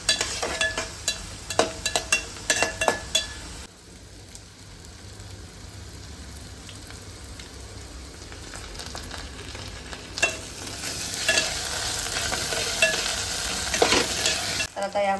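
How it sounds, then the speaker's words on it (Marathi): Chopped onion and tomato sauté in a pan for pav bhaji, a continuous close sizzle broken by repeated scraping stirs of a spoon, busier at the start and again toward the end. "कांदा आणि टॅमॅटो छान मऊ होईपर्यंत आता याच्यामध्ये परतून घेऊया."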